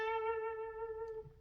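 A single sustained electric guitar note sounds through an octave-up pitch shifter, bright and held, moderately quiet and alone before fading.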